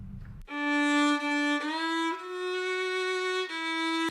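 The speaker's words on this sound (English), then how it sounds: "That's the sound of Elisa Magana playing her violin" A solo violin plays long sustained bowed notes, rich in overtones, with a few pitch changes between phrases, close and alone after a brief low noise at the start.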